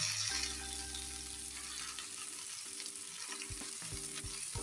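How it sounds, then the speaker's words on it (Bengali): Duck meat going into fried onions in hot oil, a dense steady sizzle and frying hiss with a few low knocks of stirring, close and even, with sustained tones in the background. "পেঁয়াজটা ভাজা ভাজা হয়েছে, এখন আমি মাংসটা দিয়ে দিব।"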